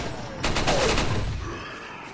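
A short burst of gunfire in Resident Evil 4 on PS4, Professional difficulty, several rapid shots clustered together before fading into quieter game ambience.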